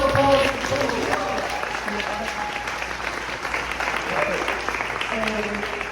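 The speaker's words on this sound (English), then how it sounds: "Big round of applause." A round of applause from an audience at a community gathering, steady clapping with crowd murmur and some voices talking over it throughout.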